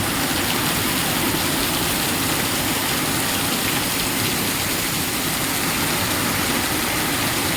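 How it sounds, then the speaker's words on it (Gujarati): Heavy rain pours down in a loud, unbroken roar, with a low rumble beneath the constant hiss of the downpour. "એકદમ ધોધમાર વરસાદ મિત્રો"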